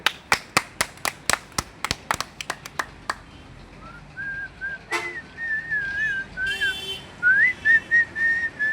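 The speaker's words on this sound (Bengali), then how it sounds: "আমি মুখির শীষ দিয়ে একটি গান বাজাবো" A run of sharp hand claps gives way to a person whistling a song melody by mouth, clear and close, with wavering sustained notes and short breaks between phrases.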